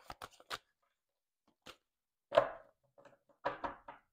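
Tarot cards are shuffled by hand in a few quick, soft riffling bursts separated by pauses, close and fairly quiet, with no talking.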